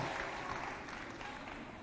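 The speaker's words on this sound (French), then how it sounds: "On applaudit pour Abba Kalam." A studio audience on a Chadian television variety show claps for Abba Kalam, a fairly faint but continuous wash of applause lasting under two seconds with no voices on top.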